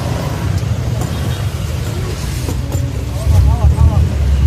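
Jeepney engine drone and road rumble heard from inside during a ride: a steady, loud low roar that swells toward the end, with brief voices in the cabin.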